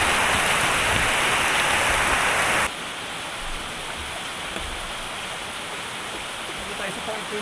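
Rain falls steadily outdoors near a parking area, a broad hissing wash that drops to a softer, steady patter partway through.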